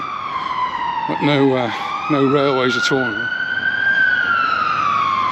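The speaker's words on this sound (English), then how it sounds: "That's a fire engine going up." A fire engine's wailing siren sweeps up and down in the distance in Stoke-on-Trent, passing steadily while someone speaks briefly over it.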